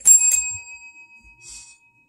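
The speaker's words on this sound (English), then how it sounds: "Go ring the bell." A dog rings a bicycle-style bell on command during trained obedience work, giving two quick bright rings close by and then a fainter ring about a second later.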